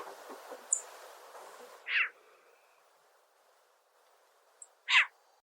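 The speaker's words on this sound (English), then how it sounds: "I've often described their call as sounding almost like a cartoon cat that is angry." Owl giving raspy, screechy calls like an angry cartoon cat: two separate loud, harsh cries about three seconds apart, with a couple of faint short chirps and soft background noise before them.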